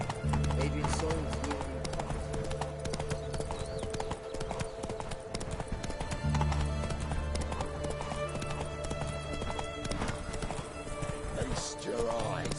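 Roach, the horse in The Witcher 3, gallops with steady, rhythmic hoofbeats close by, running through the whole stretch over game music and faint voices.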